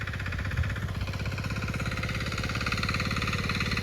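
Engine running steadily in a farm field, used to pump water onto the land, a close, even mechanical drone with a fast pulsing beat and no pauses.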